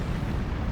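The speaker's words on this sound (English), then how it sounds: "oh, big old chain reaction from the atomic bombers there" Rumbling chain of explosions from atomic bombers in the real-time strategy game Beyond All Reason, a dense, continuous low boom with crackling bursts filling a short moment, loud and close.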